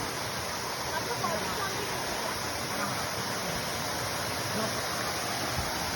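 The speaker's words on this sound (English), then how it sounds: "it is a small waterfall and it's not that deep" A small forest waterfall in Uttarakhand roars as a steady, broadband rush of falling water, continuous and fairly close, with no talk over it.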